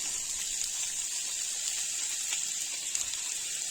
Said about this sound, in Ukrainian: Викладаю всі котлетки в сковорідку і заливаю трішки підсоленою водичкою